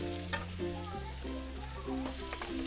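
Vegetables for veg fried rice fry in a pan with a soft, continuous sizzle and stirring, quiet beneath prominent background music.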